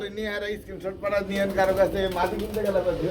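Running pigeons call with soft, repeated cooing close by, while someone talks over the birds.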